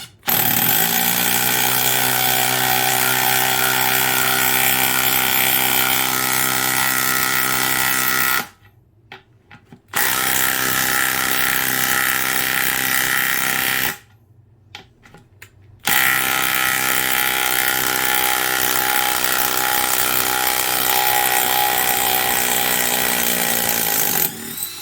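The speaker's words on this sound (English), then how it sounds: "Man, impacts are loud." A DeWalt brushless impact driver on a 5 amp battery drives chrome vanadium mid-length 3/8-inch six-point impact sockets in three long, loud bursts of rapid hammering ratchet clatter, separated by two brief pauses, with no talking.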